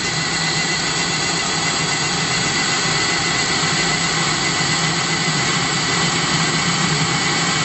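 A Webasto Thermo Top C/Z diesel heater runs at close to full speed, giving a steady, unbroken whirring roar with a low hum underneath, close and constant from start to finish.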